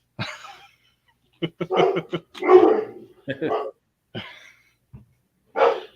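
Dogs bark in short, sharp bursts, several barks spaced irregularly with brief pauses, fairly close and clear against a quiet background.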